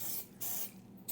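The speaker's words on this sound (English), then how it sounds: "So I will just spray the remaining compartments" Cooking spray hisses in short bursts into the compartments of a muffin tin, three quick close sprays separated by brief pauses.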